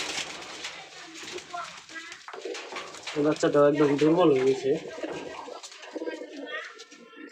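Pigeons in a loft give a few rolling coos partway through, close by, while a person talks over most of the sound.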